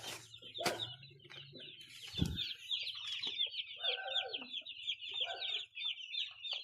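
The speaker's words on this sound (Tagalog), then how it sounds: "Ito ang ating mga sisiw na cute." Baby chicks on a poultry farm peep in a continuous high, chattering chorus, with clucks from nearby chickens and a couple of brief knocks close by.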